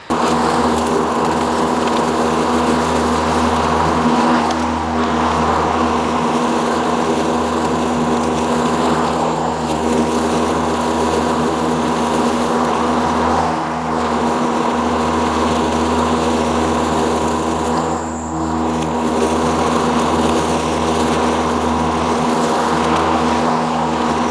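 A Toro 60V Super Recycler cordless lawn mower runs continuously close by in South Florida, giving a loud steady electric motor hum and blade whir with small dips in load and no talk.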